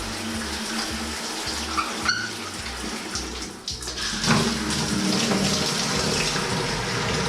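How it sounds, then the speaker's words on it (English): Water runs steadily from a household faucet at close range, a continuous broadband rush that holds for the whole stretch and swells slightly partway through. "How about the faucet?"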